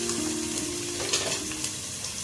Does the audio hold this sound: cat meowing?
no